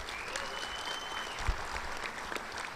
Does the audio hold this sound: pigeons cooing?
no